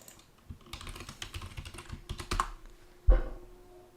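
Login name typed on a computer keyboard, a run of quick, close, irregular key clicks with a final heavier keystroke near the end, no talking.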